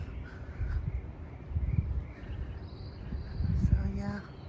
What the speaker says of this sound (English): the birds are out singing along.